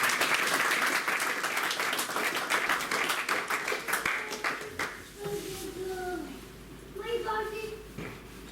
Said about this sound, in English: Big round of applause to Pedro, please.